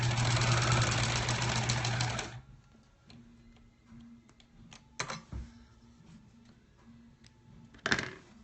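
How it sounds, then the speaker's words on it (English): A sewing machine runs at an even pace for about two seconds as it joins quilt block pieces, then stops, leaving quiet handling clicks and a final short rattle. "We just got to sew those 2 pieces together."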